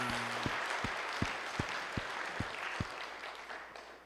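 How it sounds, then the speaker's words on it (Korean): A church congregation claps in praise during an Easter Sunday service, a fairly faint, steady wash of applause from many hands, with a few sharp louder claps close by at the start. "하나님께 영광의 박수 올리겠습니다"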